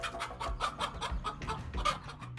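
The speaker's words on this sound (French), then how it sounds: "Les poules ne sont pas faites pour combattre les serpents." A hen clucks in quick, harsh repeated bursts while fighting off a snake, the calls close and loud with a steady rhythm of short outbursts.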